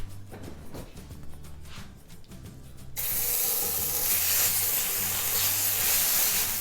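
Butter melting in a hot pan for rice gives a steady, loud sizzling hiss that swells in partway through and holds without a break, with faint low kitchen noise before it starts.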